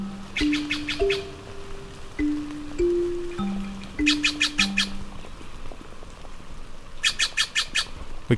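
Birds call along a hiking trail through a plant-filled gully with maidenhair ferns, sounding repeated bursts of sharp chirps and squawks alongside lower whistled notes, fairly close and loud, with no talking.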